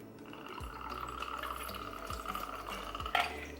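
A little non-alcoholic margarita mix poured over ice into a glass, a steady trickling stream with soft ice ticks and a brief clink near the end, close and quiet.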